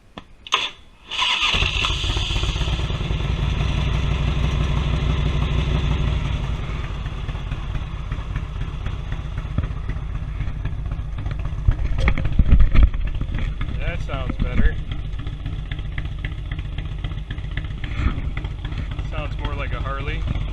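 A Harley touring V-twin motorcycle fitted with new exhaust pipes cranks and fires after a moment, then settles into a loud, steady, close-up idle with a rumbling, uneven pulse that holds to the end.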